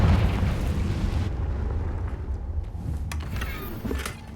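A Confringo spell blast in Hogwarts Legacy hits with a loud, broad burst at the start and rumbles away over a few seconds. A couple of sharper crackles follow in the decaying game ambience.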